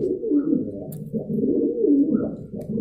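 Pigeons coo steadily and close by, a soft low rolling murmur of several birds overlapping with no pauses.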